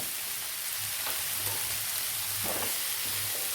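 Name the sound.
chopped tomatoes sautéing and sizzling in pan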